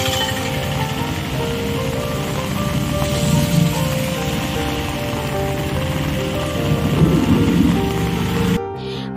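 Heavy rain pours steadily in Madurai as a loud, dense, continuous hiss and patter close by with no break, then cuts off abruptly just before the end.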